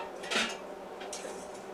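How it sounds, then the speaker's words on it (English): Metal pot lid is set back onto a pot of boiling food on a kitchen stove, one quick clank followed by a softer rattle and light bubbling hiss. "Put that lid back on and let those go."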